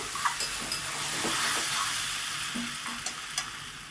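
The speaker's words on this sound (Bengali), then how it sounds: "ভাজাটা আমার প্রায় হয়ে গেছে নেড়ে চেড়ে আমি আরেকটু ভেজে নেবো" Ivy gourd and potato frying in a pan while being stirred, giving a steady, close sizzle with scattered light scraping and clinks of the spatula and no voices.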